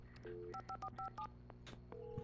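A telephone is dialed in the video game Alan Wake Remastered, with a rapid run of clean touch-tone beeps at a steady pace, followed by a brief electronic sweep and a low tone, heard close and fairly quiet.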